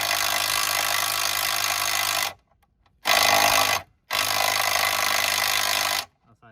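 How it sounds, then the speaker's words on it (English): A DeWalt 10.8-volt impact driver with an adapter removes bolts on a Kia Rio in three loud sustained bursts separated by short silent pauses. "the DeWalt with a adapter on it, the impact. So noise, it'll be a bit of noise for a second"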